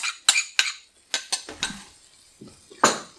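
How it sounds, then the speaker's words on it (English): Cottage cheese egg mix goes into a pan for mac and cottage cheese, with several sharp metallic clinks and scrapes of utensils against the pan, close and spaced unevenly, followed by softer rustling. "we can add in our cottage cheese egg mix"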